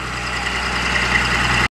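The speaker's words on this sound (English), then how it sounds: "Brought my tractor up." A farm tractor engine idles nearby on a freezing morning before rolling a field, a steady, loud low rumble with constant drone and no pauses, cutting off abruptly at the end.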